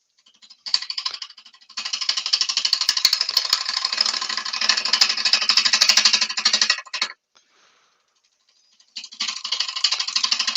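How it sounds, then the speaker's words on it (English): Wood turning on a lathe with a 3/8 spindle gouge during initial shaping, a loud, rapid chattering rasp that runs for several seconds, stops, then resumes. "I'm just using my 3/8 spool gouge just to do the initial shaping on"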